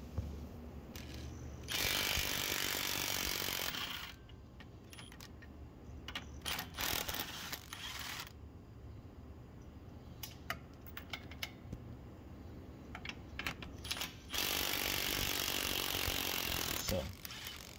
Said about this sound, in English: I'm going to start with taking off the factory U-bolts.